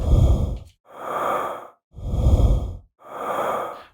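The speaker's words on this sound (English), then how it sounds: "So this is a breath generator. And if you hold down a note," Synthesized breaths from the SFX Pro 9000 breath generator, four close alternating inhales and exhales in an even rhythm, breathy and loud, with short gaps between them and no talking.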